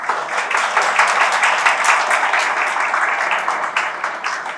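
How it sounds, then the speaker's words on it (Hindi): Students standing at their seats applaud a prize winner at an award ceremony in a coaching-institute hall, a dense steady crowd clapping that holds loud and unbroken throughout. "सारे बच्चे लोग अपनी सीट पे खड़े होकर सालू के लिए ताली बजाएंगे"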